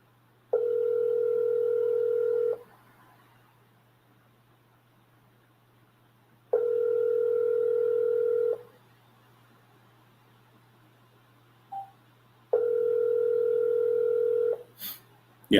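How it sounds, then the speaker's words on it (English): A phone call ringing with no answer: three long, even two-second ring tones separated by four-second pauses over a faint steady hum, with a couple of small clicks between rings. "Okay, we got it ringing, but we're getting no answer."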